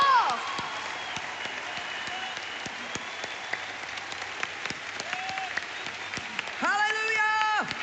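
A church congregation applauds and cheers steadily throughout, a dense wash of clapping with a few voices rising above it, swelling louder near the end.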